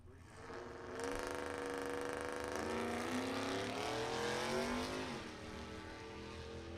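A 2014 Camaro and a Trailblazer launch down a drag strip, engines roaring loud and rising through the gears, pitch climbing steadily before easing off near the end as the run finishes.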